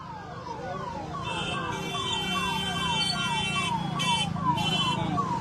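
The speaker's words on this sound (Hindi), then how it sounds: "लीजिए, यहाँ एम्बुलेंस आपको दिख रहा है" Ambulance siren wailing in repeated falling sweeps, steady and fairly close, over low traffic rumble with occasional higher electronic tones layered on top.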